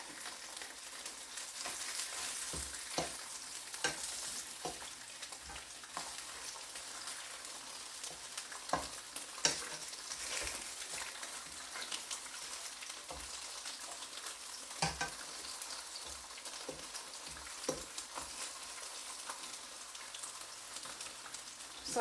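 Bologna slices fry in hot pans with a steady, bright sizzle throughout, punctuated by scattered pops, crackles and occasional scraping taps as the meat is moved around.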